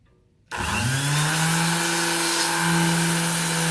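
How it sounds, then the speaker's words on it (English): After a moment of near-silence a power sander whirs to life and runs steadily on the paint of a 1999 Jeep Wrangler Rubicon, its motor whine holding a constant pitch with a rough grinding hiss. "Once I start sanding this off, I've got to paint it."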